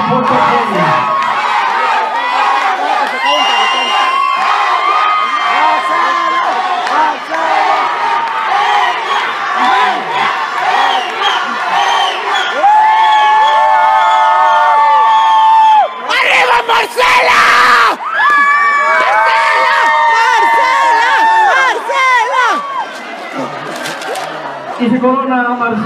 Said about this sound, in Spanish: ¡Fuerte el aplauso para Marcela!